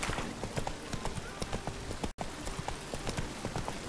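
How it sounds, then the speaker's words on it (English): Roach, a horse in The Witcher 3: Wild Hunt, gallops with rapid, steady hoof clip-clop close by, with a brief dropout midway and faint ambient game sound behind. "Run, Roach."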